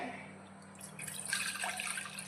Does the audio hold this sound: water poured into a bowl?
yes